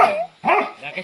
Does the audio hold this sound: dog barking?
yes